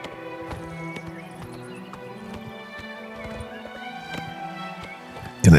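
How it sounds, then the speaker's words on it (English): Horse hooves clip-clopping with a brief neigh from a horse in the video game The Elder Scrolls IV: Oblivion Remastered, a steady clopping rhythm at moderate distance over game music, ending in a loud burst. "probably my brother's horse"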